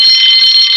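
An alarm bell rings out loud and steady, a continuous high metallic tone sounding alone without a break.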